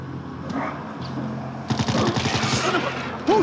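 Gunfire in the video game World War Z, with dense bursts of overlapping shots that swell louder in the second half amid a busy, cluttered game mix.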